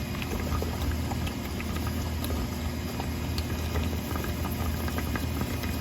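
Steady gurgling, bubbling rush of gear oil draining from a Syncro front differential with a suction-like hiss, constant and close throughout.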